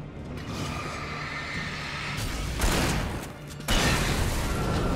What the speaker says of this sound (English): Have a flashbang.